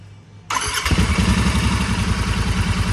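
A 648 cc Royal Enfield Interceptor 650 motorcycle starts with a brief starter crank, then catches and settles into a loud, steady, rhythmic idle close by.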